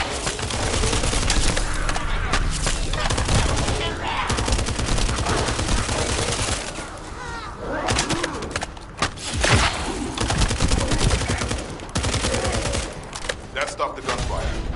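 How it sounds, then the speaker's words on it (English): Sustained gunfire and bursts of automatic fire from a combat scene in the video game The First Descendant, played on PS5, loud and dense throughout with brief lulls and a voice talking over parts of it. "That stopped the gunfire."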